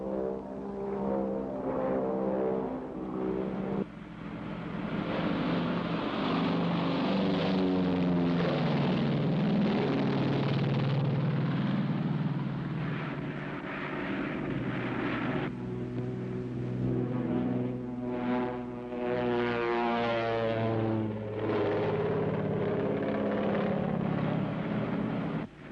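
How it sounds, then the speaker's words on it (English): A propeller airplane tails a car on an old drama soundtrack: a continuous droning engine with shifting harmonic tones swells and recedes over about twenty-five seconds, beneath orchestral-like layers. "That plane is following us."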